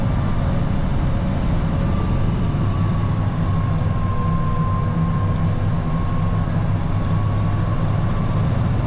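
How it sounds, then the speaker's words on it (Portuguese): Volvo NL truck with its engine brake on while descending a mountain road, a steady loud low rumbling drone with a faint whine above it, continuous and unbroken throughout. "Freio motor ligado, ó."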